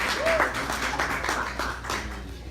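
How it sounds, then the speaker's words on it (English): Audience clapping at a comedy show at Busboys & Poets, a steady wash of applause with a few scattered sharp claps, moderately loud and continuous throughout. "Yeah, clap it up."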